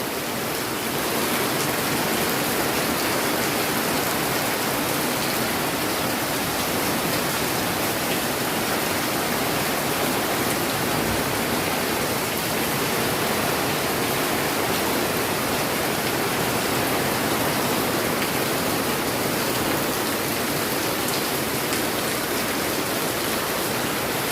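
Heavy rain pours steadily for the whole stretch, a dense, loud, unbroken hiss with no voices.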